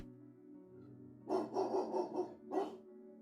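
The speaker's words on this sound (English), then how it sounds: "He faintly hears the sounds of barking and echoes of people yelling in the distance." A dog barks from a distance in a horror video game, three or four muffled yelps in a short burst, then one more after a pause, over a low ambient hum.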